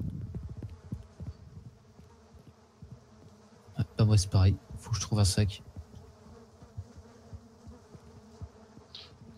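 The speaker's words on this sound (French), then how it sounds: "le bruit des mouches" Flies buzz steadily in the background of the video game Miscreated while people talk briefly over the middle of it.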